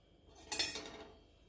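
Roasted plain oats are scraped out of a kadai with a utensil, making one brief soft metallic scrape and rustle, close and quiet, with no voices.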